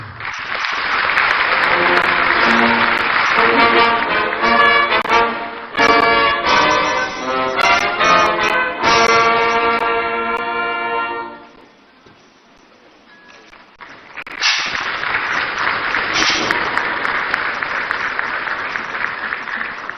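Audience applause fills a conference hall at Ghana's National Economic Dialogue 2025, mixed with loud, bright fanfare music for the first half; the sound briefly dips, then a sustained wash of clapping returns.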